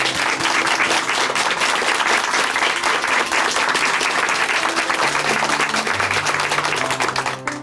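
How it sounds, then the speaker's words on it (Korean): A church congregation in Chuncheon applauds warmly after a testimony, with dense, sustained clapping that fills the space for the full length before tapering slightly at the end. "다시 한번 큰 박수 보내드릴게요."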